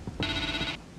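A phone rings in a spooky horror video game, one loud sustained electronic ring lasting about half a second, with short low thumps just before and after.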